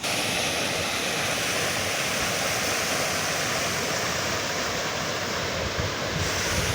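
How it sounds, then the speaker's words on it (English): A river flows in a steady, loud, continuous wash of rushing water at a riverbank where children swim, filling the whole clip with no voices heard. "You can hear the sound of the river, sound of the water"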